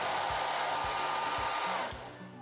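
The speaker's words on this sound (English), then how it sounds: "If we turn on the hair dryer, the car will go backwards." A hair dryer blows with a loud, steady whirring hiss at a model car in a speed experiment, a faint periodic thump underneath, then its pitch drops as it winds down.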